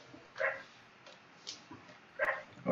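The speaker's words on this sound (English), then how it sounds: "My dog is back here chilling." A corgi whimpers and yips in short, faint bursts indoors, a few separate whines spaced irregularly against a quiet room background.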